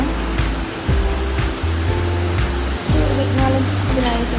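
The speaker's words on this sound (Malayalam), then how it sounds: "ഇവിടെ നല്ല മഴയാണ്" Heavy rain pouring outside a home kitchen during cooking, a dense steady roar that holds throughout, with low tonal hums and faint clatter layered on top.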